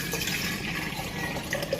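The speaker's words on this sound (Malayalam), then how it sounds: "അപ്പോൾ ഇനി ഇതിലേക്ക് വെള്ളം ഒഴിച്ചു കൊടുക്കാം" Water poured from above into a bottle holding a sweet potato pierced with sticks, a steady close splashing trickle running without pause throughout.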